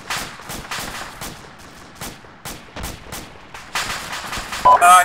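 Heavy gunfire in Arma 2, a long series of sharp separate shots and short bursts at uneven intervals, some near and loud, others more distant, ending in a louder blast.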